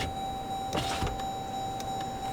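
A Jeep Grand Cherokee power window closes slowly while a rain visor is being fitted, a faint steady motor hum with a couple of brief rubbing squeaks near the start, heard close inside a quiet cabin.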